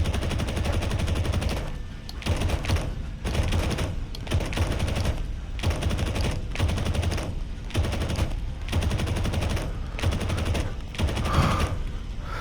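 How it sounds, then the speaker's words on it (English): Rapid bursts of machine-gun fire from a flight video game dogfight, loud and dense, repeating in short volleys across the whole stretch with brief gaps between them. "I love the way those machine guns sound."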